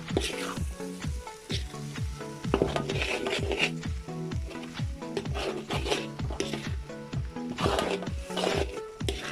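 A fish and potato curry is mixed in a pan, with rhythmic rasping scrapes of a utensil against the pan repeating steadily throughout, close up under a droning tonal background.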